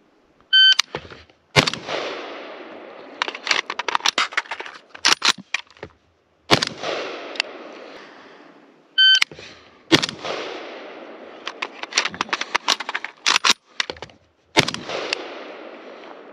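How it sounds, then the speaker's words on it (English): A WBP Jack 5.56 AK rifle firing outdoors, with sharp, loud reports in quick strings of shots broken by brief pauses, each crack ringing out and decaying between groups. "how am I feeling about this gun after putting a couple mags through it?"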